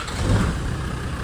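A 1999 Land Rover Defender 110 with a Td5 diesel engine idling, a steady low rumble close by with no talking, brief and even in level.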